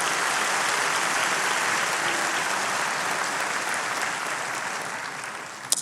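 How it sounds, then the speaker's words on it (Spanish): A church congregation claps in steady, dense applause that holds evenly and tapers slightly toward the end, with no voices over it. "Un aplauso al Señor."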